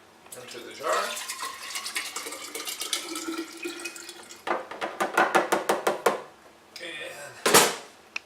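Whey-like liquid from goat cheese making is poured into a jar in a kitchen, giving a close, gurgling splash that runs for several seconds, then choppy glugging pours and a few clinks, with a voice briefly heard.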